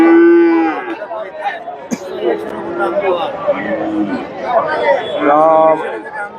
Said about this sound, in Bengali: এখানে বড় একটা বকনা দেখতেছি ফ্রিজিয়ান